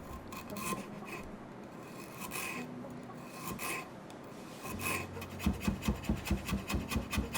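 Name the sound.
peeling and julienning fresh ginger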